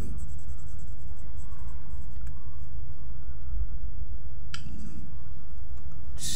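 Pencil scratching on paper while sketching a baby dragon, a continuous close, soft scraping with occasional sharper strokes and no talking.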